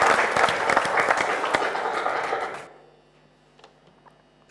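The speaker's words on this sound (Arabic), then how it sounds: "اعطونا تصفيق اماني" Studio audience on a Maghrebi TV show applauding a contestant named Amani, dense clapping for about two and a half seconds before it cuts off abruptly into near silence with faint background hum.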